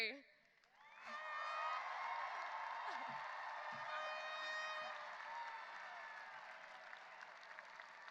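High school graduating class and audience at a 2022 commencement erupt into sustained cheering, whooping and applause, a dense crowd roar that swells quickly and holds steady for several seconds.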